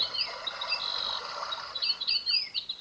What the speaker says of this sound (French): Donc vous entendez voilà le petit oiseau qui chante